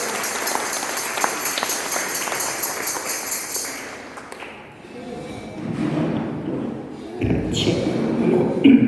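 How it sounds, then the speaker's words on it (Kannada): Audience applause for two singers at a musical service in a senior citizens' home: a burst of clapping with thumps fills the room, fading midway, then swelling again toward the end. "ಇವರಿಬ್ಬರಿಗೂ ನಿಮ್ಮ ಪರವಾಗಿ ಜೋರಾದ ಚಪ್ಪಾಳೆ ಬರಲಿ"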